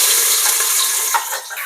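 Water pours steadily into a pressure cooker holding mutton masala, a bright continuous splashing rush that fills the whole moment without any talk.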